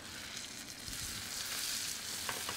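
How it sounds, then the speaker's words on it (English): Battered barracuda pieces fry in a pan with a loud, steady, close sizzle and crackle that continues without a break. "Take another piece of barracuda and just drop it right in the pan."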